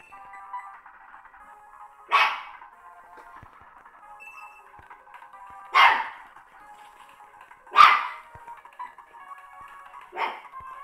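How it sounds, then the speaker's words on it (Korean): A dog barks four separate times, roughly two to three seconds apart, each a short, fairly close bark over a faint steady background hum. "지금 저희개가 짖고 있어요"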